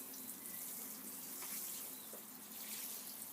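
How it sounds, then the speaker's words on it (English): Water pours from a can or hose onto allotment soil, soaking it before carrots are sown, producing a steady, moderately faint splashing hiss that runs the whole time without any talking. "So I'll go right from corner to corner, doing a good soaking"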